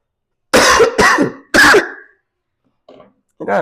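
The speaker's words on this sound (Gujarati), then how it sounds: "ઉધરસે ત્રાસ કર્યો છે" A man gives a few harsh, forceful coughs in quick succession, close and loud, followed after a pause by a couple of quieter throat sounds.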